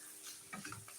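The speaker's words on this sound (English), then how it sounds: "So just continue stir frying." Tomatoes stir-fried in a pan for a beef stew with ugali: a quiet, steady sizzle with soft scraping and stirring strokes in the second half, close up and with no talk over it.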